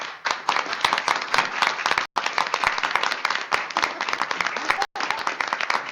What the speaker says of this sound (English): ask the board to please join me in applauding Michelle Mylott